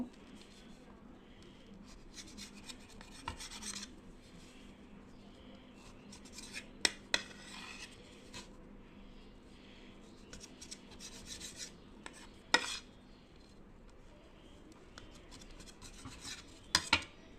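A knife trims the sides off slices of bread in a kitchen, making quiet rasping, scraping strokes punctuated by a few sharp clicks and taps.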